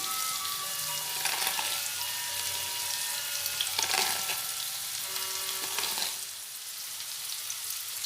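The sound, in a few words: potatoes frying in hot oil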